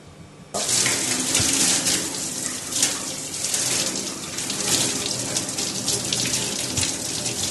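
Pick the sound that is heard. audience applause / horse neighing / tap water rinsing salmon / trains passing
tap water rinsing salmon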